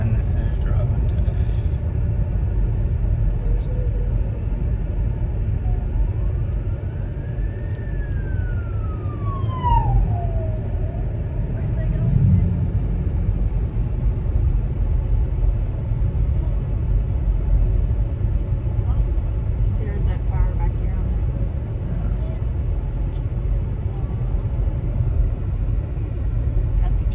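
A car driving on the way to church, heard from inside the cabin: a steady low road and engine rumble throughout, with a siren rising and falling partway through, and some faint talk.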